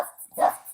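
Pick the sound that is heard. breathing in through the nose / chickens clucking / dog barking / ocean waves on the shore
dog barking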